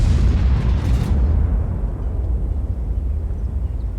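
A heavy boom from a tier 10 self-propelled artillery gun firing in World of Tanks, starting loud and close with a sharp crack, then fading into a long, low rumbling tail, with no voices.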